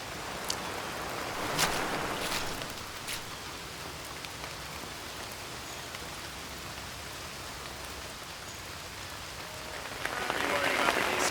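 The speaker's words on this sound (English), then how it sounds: "It's been absolutely pouring with rain for the last hour." Heavy rain pours steadily over Madagascar rainforest, a dense, continuous hiss of drops on leaves and ground that swells slightly at the start and again near the end.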